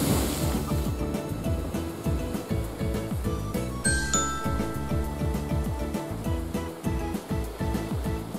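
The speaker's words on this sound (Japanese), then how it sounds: "あ、波危ないですよ。" Ocean waves break and wash onto the shore at a fishing spot in Tomakomai, a loud, continuous rolling surge with rhythmic swells and faint clinks of fishing gear nearby.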